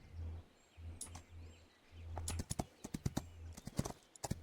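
Horse hooves clip-clopping in the Rival Star Horse Racing video game, a low rhythmic thudding gait giving way after two seconds to sharper, irregular hoof strikes, fairly faint, with no talk.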